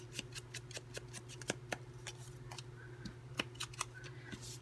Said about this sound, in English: I just need to finish cutting this and then we'll have to cut some paper